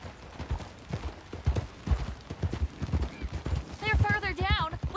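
Horse hooves in Red Dead Redemption 2, a fast rhythmic clip-clop of galloping close by, ending with a horse whinnying near the end.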